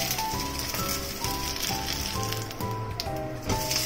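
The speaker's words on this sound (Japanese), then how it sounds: "油が温まったらまるちゃんの麺を焼いていきます。" Maruchan yakisoba noodles fry in hot oil in a pan, giving a steady close sizzle and crackle while background music plays along.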